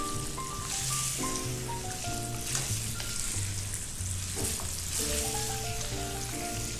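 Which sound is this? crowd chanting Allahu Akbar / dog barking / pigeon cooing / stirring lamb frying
stirring lamb frying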